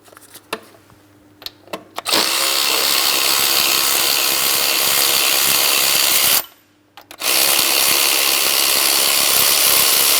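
Power tool working an 18mm mounting bolt loose on a Cadillac CTS 3.6L V6 engine, a loud continuous whir close by, broken by one brief pause before running again, after a few light clicks.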